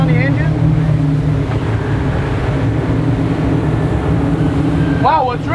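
Engines of a Fountain 38 center console boat with over 1000 horsepower, a steady loud drone with wind and water rush and a brief voice near the end.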